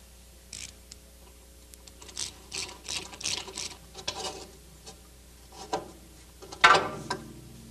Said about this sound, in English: Now, we have to remove the two lower attaching bolts and pull the shock absorber down through the lower control arm to complete removal.